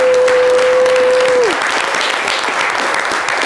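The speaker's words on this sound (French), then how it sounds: "on va tous lui apporter notre énergie à travers 5 secondes d'applaudissements" A studio audience on an Ivorian talk show bursts into dense, loud applause that holds steady, with a sustained tone fading out early under the clapping.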